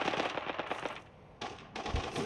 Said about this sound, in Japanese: なんかドラゴンじゃないの、撃ってんの。